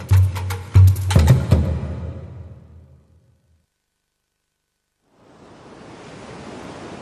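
Sea waves off a coast swell in as a broad, steady rushing surf after a short silence, preceded by deep booming hits that fade away.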